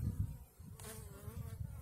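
Honeybees in a barrel beehive buzz in a dense, continuous drone, with a brief higher, tonal whine rising above the hum partway through.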